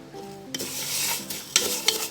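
Vermicelli frying in a pot with a little salt, giving a bright crackling sizzle that starts suddenly and keeps going, broken by a few sharp scraping stirs and clinks. It is close and fairly loud, with no talking.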